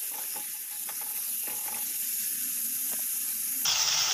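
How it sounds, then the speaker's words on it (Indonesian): Small eggplants and vegetables stirred in a frying pan, a steady sizzle with faint scraping stir strokes, then a louder surge of hissing near the end. "Kita masukkan terong pipitnya ya. Nah, dan kita aduk rata ya."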